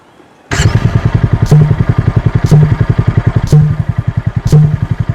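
A TVS Apache RTR 200 motorcycle with a 200cc four-valve engine starts up and runs at a race track, loud and close, with a fast rhythmic throb and regular pulsing accents, alone.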